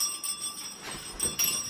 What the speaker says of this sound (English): Maddie, do you want the bell?